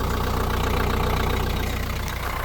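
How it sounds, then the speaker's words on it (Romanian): A car engine idles just after being started, a steady close low rumble with a regular pulsing beat, continuous and unaccompanied by voices. "Am pornit mașina și trebuie să fim atenți la pisicuțe"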